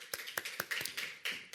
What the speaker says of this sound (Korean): 우리 박수로 주님의 이름을 찬양하십시다.